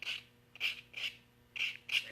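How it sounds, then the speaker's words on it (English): Fine 320 grit sandpaper rubs a spinning pen blank on a lathe in short, soft rasping strokes, five quiet swishes at an uneven rhythm with pauses between them. "This is 320 grit, Becky."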